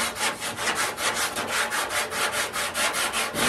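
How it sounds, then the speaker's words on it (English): Steady rhythmic hand sanding strokes rasp back and forth across the metal body lines of a 1968 Firebird, evenly paced and close, alone without talk. "But I need to keep sanding till this line actually goes a little lower than where I want it to be."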